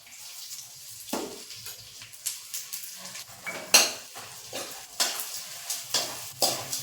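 Edible gum frying in ghee in a pan over a low flame, with a soft sizzle under repeated metal clinks and scrapes from a spoon stirring the pan.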